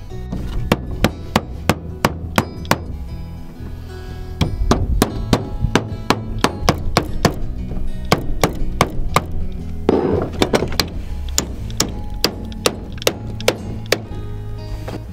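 A Hi-Point pistol serves as a hammer, striking a wooden birdhouse in a long series of sharp, close knocks, some in quick bursts and others spaced apart, with no talk.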